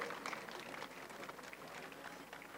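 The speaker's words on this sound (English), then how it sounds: "Please give her a huge round of applause" Faint applause from a school annual day audience for a student receiving an award, a steady spread of distant clapping with no voices on top.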